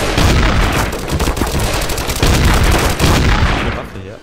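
Gunfire in the video game Trouble in Terrorist Town: a dense, loud, continuous burst of rapid shots that runs unbroken for several seconds before tapering off.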